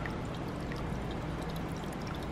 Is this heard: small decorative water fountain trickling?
yes